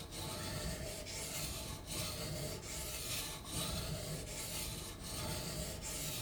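A blade is honed on a coarse 700 grit sharpening stone in steady back-and-forth strokes, each pass a soft gritty rasp with brief pauses at the turns, close and fairly quiet with no talking.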